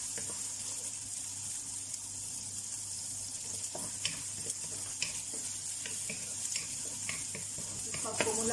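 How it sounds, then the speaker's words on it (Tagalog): Onions fry in a pan as the first step of a tuna biryani. A soft, continuous sizzle carries on throughout, with scattered light clicks from stirring, fairly faint and close. "Kulayin po natin yung sibuyas."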